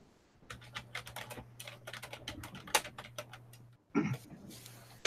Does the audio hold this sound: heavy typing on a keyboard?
yes